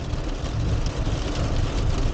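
Heavy monsoon storm rain pours down in the Chama River Valley, a dense and even roar of falling water that continues without a break.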